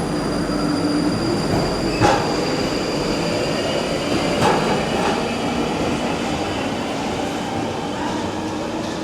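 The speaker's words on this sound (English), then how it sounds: "Train's departing." A London Underground train pulls out of King's Cross St Pancras, giving a steady, close rumble of wheels on rail with high metallic squeals and a few louder clunks along the way.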